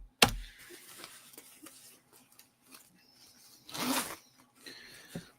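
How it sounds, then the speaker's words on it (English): Zips on a Superdry jacket being handled, giving a sharp zip near the start and a louder rasping zip burst near the end, with light clicks and rustles between. "It's one of those bloody super dry jackets with 20 billion zips."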